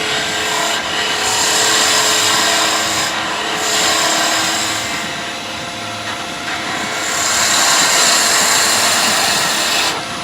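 A wood lathe spins a pen blank while a skew chisel shears it, a loud continuous hissing whir that swells and eases as the cut moves along.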